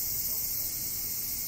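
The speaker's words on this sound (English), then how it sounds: "As you can hear, there were a lot of cicadas." Cicadas buzz in a thick, unbroken high-pitched chorus in Fukui, Japan, steady and fairly loud throughout, with low ambient noise underneath.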